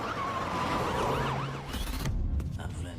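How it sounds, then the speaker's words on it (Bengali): An ambulance siren wails in rising and falling sweeps, fairly close and loud, then cuts off near the end as other muffled noises take over, in a scene from a Bengali drama. "অ্যাম্বুলেন্স।"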